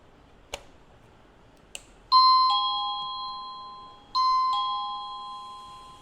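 A cheap battery-free wireless doorbell sounds a two-note electronic ding-dong chime twice, clear and close, each tone ringing out and decaying, after a couple of faint clicks in a quiet room.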